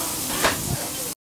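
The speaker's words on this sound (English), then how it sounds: "Ooh, a sizzle." A close sizzle of a beef cutlet hitting a hot grill, a brief hissy burst over steady frying crackle, cut off abruptly at the end.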